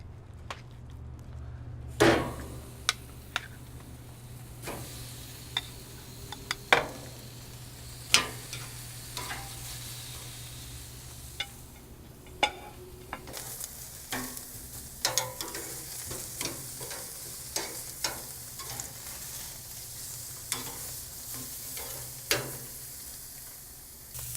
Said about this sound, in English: We're going to go ahead and throw these ribeyes on our hot fire.